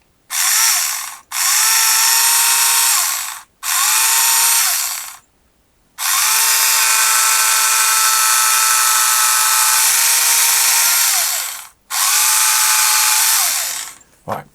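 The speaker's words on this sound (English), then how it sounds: "This is a little handy drill, so it's an electric powered drill." A small battery-powered electric hand drill whirs in several bursts, short runs then one long steady spin, each starting and stopping abruptly with pauses between, drilling a hole in a vintage toy part.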